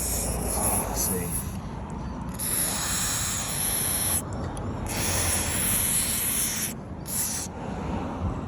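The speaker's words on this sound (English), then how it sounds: "I reckon a bit of WD-40 in here, we might actually get this springing back." WD-40 is sprayed into a sticky, frozen car door handle in several long hissing bursts with short breaks between them, set against steady, close background noise.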